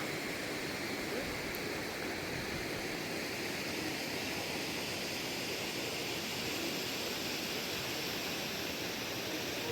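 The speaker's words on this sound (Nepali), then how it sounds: "त्रिशुल धाराबाट चाहिँ यहाँनिर छलङ जल धारा आइरहनु भएको छ" The Trishul Dhara water stream pours at Gosaikunda in Rasuwa, a constant, even roar of falling water with no breaks, heard alone without voices.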